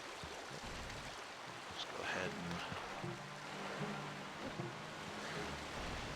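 A waterfall in The Legend of Zelda: The Wind Waker makes a soft, continuous rushing wash of water, low in level, with faint tonal sounds drifting over it.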